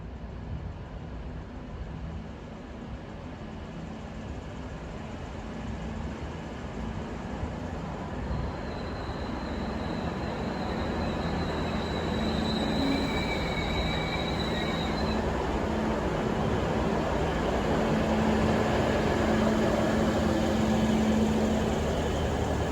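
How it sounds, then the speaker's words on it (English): A Hunter rail car pulls into platform 1 at Newcastle Interchange, its low engine rumble swelling steadily over about twenty seconds with brief high wheel squeals near the middle and a faint tonal whine toward the end. "Now arriving in platform 1 is a Hunter rail car."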